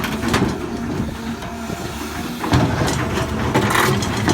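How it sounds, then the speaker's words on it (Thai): A Caterpillar 323GC excavator digs hard laterite, its engine droning loud and steady with rises in effort and occasional scraping knocks from the bucket working the ground. "เสียงถอนครับสุดยอดเลยเครื่องแคทนี่"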